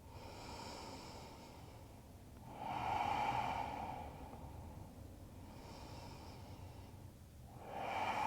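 Slow, deep breaths during a morning vinyasa yoga pose, two long audible inhale-exhale cycles, soft and close with a breathy hiss, no talking.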